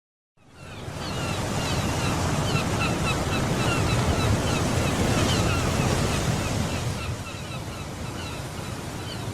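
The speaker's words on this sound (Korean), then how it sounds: "두 노인이 동해안의 바닷가에서 바다를 즐기고 있네요." Ocean waves washing onto an East Sea coast beach, a steady loud roar of surf with wind buffeting the microphone, continuous and close for the whole stretch with no talk.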